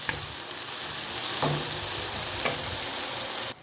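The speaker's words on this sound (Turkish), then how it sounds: "biberler iyice kavruldu" Peppers roasting in a pan for menemen give a continuous close sizzle with a few light scraping stirs, steady and fairly loud before it drops off abruptly at the end.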